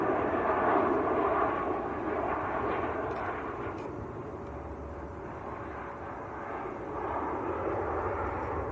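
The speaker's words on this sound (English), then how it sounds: "that was a Lufthansa 747 that just went over the top, heading west." A Lufthansa Boeing 747 passes overhead near Manchester Airport, heading west, heard as a faint, steady jet rumble with a slight swell at the start and again near the end, with no talk.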